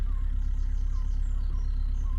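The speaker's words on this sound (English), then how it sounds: "Engine's running." A narrowboat engine idles on a canal trip to Godalming, a steady, low, rhythmic diesel throb that stays constant and fairly close, with no talking over it.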